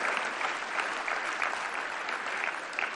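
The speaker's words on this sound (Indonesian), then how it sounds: "Mari kita beri tepuk tangan kepada" Sustained applause from a large audience at the MPR annual session, thick continuous clapping with slight swells, holding steady for about three seconds without speech over it.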